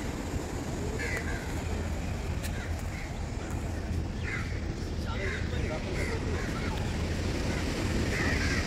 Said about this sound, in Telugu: అలలు అయితే చాలా పెద్దగా వస్తున్నాయి ఇప్పుడైతే.